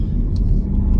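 A BMW X1 at full throttle, a loud, low, continuous engine rumble and road roar, close and steady over a short stretch with no talk.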